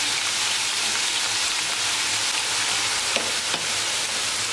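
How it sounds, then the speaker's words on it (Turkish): Potatoes dropped into well-heated vegetable oil sizzle and fry steadily, a dense even hiss up close with a couple of faint clinks partway through. "Yağ iyice ısındıktan sonra patatesleri içine atıyorum."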